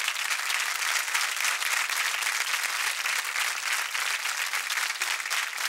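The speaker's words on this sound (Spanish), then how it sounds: "Un gran aplauso para él." Dense, steady applause from a television studio audience welcoming comedian Ricardo Meruane, loud and continuous for several seconds without letup.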